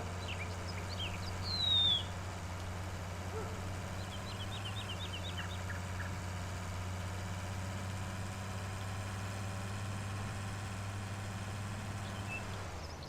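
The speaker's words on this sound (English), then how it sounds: "turn your tractor off" A tractor in Farming Simulator 19 idles with a steady, low, even engine drone throughout, while a few faint bird chirps sound in the background and no one speaks.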